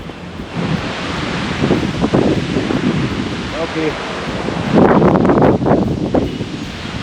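Strong wind gusts roar and buffet the microphone on a mountain trail in Shenandoah National Park along the Appalachian Trail, loud and continuous, with a person briefly speaking.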